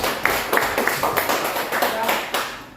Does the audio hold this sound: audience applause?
yes